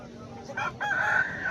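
A rooster crows once in a drawn-out call, set against a murmuring background of a busy rooster market.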